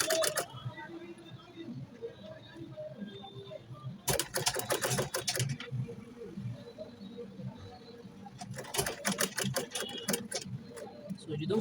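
Close and moderately loud, a sewing machine stitching a shirt collar runs in two short bursts of rapid, even needle clatter separated by a quieter stretch with soft handling sounds.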